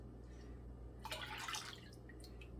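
A dissolved mixture poured into a pot of milk while making mozzarella: a short soft splashing pour lasting under a second, fairly faint and close, over a quiet steady hum.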